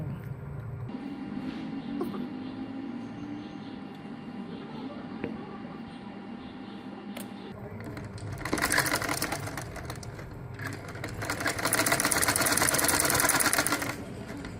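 A domestic sewing machine stitches lace onto the wrong side of fabric, running in two longer loud bursts of steady whirring after quieter handling noise, with faint talk in between.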